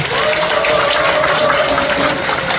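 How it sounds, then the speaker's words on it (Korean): Audience at a Korean War anniversary security forum seminar giving a steady, dense round of applause, loud and continuous with a faint sustained tone underneath. "큰 박수 한번 부탁드리겠습니다"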